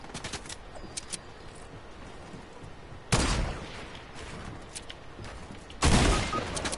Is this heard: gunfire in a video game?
yes